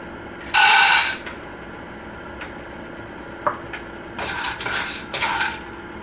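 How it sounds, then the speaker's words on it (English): Peanuts are roasted in a pan for chutney, giving two bursts of dry rattling and clinking against the metal, with a quiet stretch and a single sharp tap between them. "I'm going to roast these peanuts here."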